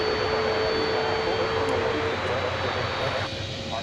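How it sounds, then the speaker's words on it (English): A UPS Boeing 767 jet heading to Louisville roars steadily at an airport at night, a loud continuous engine drone with a whining tone that eases slightly near the end. "This is UPS flight 793, a 767, going to Louisville"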